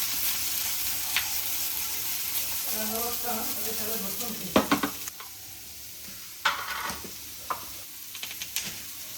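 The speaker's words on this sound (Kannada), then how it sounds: "ನಂತರ ಓನಿಯನ್ನು ಹಾಕಿ ಬೇಯಿಸ್ಕೋಬೇಕು" Onions frying in coconut oil with garlic in a pan for Mangalore-style country chicken sukka, a steady close sizzle with occasional stirring clatter and a few sharper pops.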